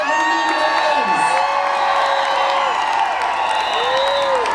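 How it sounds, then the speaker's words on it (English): Crowd cheering and applauding contestants at the 50th annual Greasing of the Poles during Mardi Gras 2020 in New Orleans, a steady wash of clapping with whoops and shouts rising over it throughout. "Let's give a round of applause for this display."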